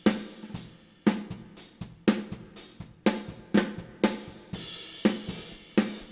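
Jazz drums heard from overhead mics recorded flat to tape, with a crisp popping snare and washing cymbals, a light reverb tail behind each hit, no talking.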